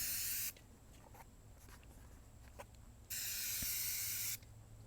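3M Super 77 spray adhesive hisses out of an aerosol can being applied to a cover in two loud, steady bursts, the first about half a second and the second over a second long, with quiet handling sounds between and no talking.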